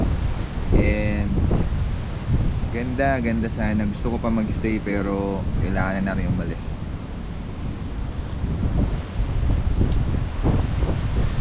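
Strong wind blowing on the coast at the road's end in the Philippines, a steady broad rush under someone talking throughout, gusting louder near the end.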